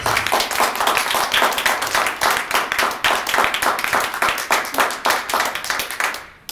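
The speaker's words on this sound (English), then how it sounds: "I'm going to ask for our small but mighty crowd a big round of applause for our guests" A small crowd at a community meeting gives the guests a round of applause, steady close clapping with sharp individual hand strikes, sustained for several seconds before tapering off abruptly.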